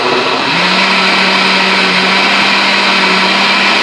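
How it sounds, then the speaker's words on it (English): A blender blending almond milk whirs steadily and loudly, its motor settling into a constant hum with a faint rising pitch at the start, running continuously without voices. "throw my blender on, blend it up"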